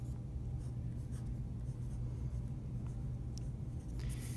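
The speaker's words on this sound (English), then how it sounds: "I take out my pencil and write my name." A pencil writes on paper, producing soft, quick scratching strokes over a steady low background hum, close and fairly quiet.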